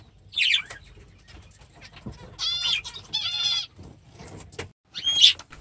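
Finches in an indoor bird room chirp in short, bright bursts near the start, midway and at the end, with fluttering and low room noise between the calls.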